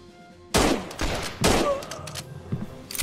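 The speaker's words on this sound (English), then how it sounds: "Let's just poke our heads out, take a shot, poke our heads back." Rifle volleys crack out in the Civil War strategy game The Bluecoats: North & South, two loud massed bursts a second apart, each trailing into rolling scattered shots and echo, with a further report near the end.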